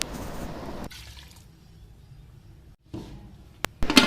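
About a glass and a half of water poured into a pressure cooker of beef and halved tomatoes for beef karahi: a short, soft, splashy gush at the start that quickly fades to near quiet.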